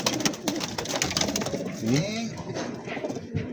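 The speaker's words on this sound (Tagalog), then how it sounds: "Ang gaganda ng kalapati ni Kabayan dito" Soft, low pigeon coos ripple over a busy background of fluttering and shuffling, with the birds close by in a small loft.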